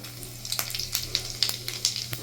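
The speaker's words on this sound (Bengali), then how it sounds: "এবার ওই তেলের মধ্যে দিয়ে দিচ্ছি 5 থেকে 6টা শুকনো লঙ্কা।" Five or six dried red chilies crackle and sizzle in hot refined oil, with sharp irregular pops and spits over a low steady hiss, close and fairly quiet.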